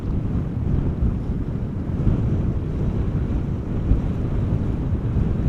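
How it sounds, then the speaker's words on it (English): Steady wind buffeting a microphone outdoors at Amsterdam Schiphol Airport, a continuous low rumbling roar with gusty fluctuations throughout and no voices. "Wind is picking up a little bit."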